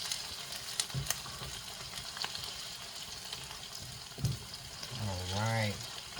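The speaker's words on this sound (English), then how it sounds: "And we're going to go ahead and mix. See the onions, they do kind of brown a little bit" Onions frying in a pan for an African stew sauce, a low continuous sizzle with spoon scrapes and knocks while stirring, and someone briefly speaking near the end.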